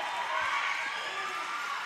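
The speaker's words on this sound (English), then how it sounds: "You guys can hear the Tick Tick Boom cheering squad. They keep going Tick Tick Boom." A cheering squad chants for a roller derby skater named Tick Tick Boom, the steady crowd noise of the bout filling the short stretch without a break.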